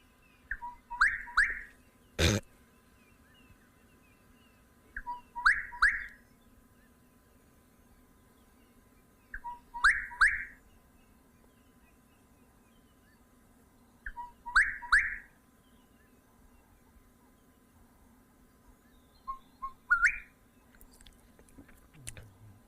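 A person whistles an imitation of a bird call during an early-morning safari, repeating a short trilled phrase five times at even intervals of about five seconds, clear and alone against a quiet background.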